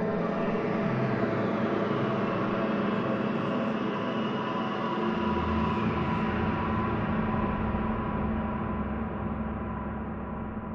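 A dense synthesized drone from a VCV Rack modular synthesizer patch, broad and hissing with layered sustained tones and a low rumble that shifts midway, steady and unbroken throughout.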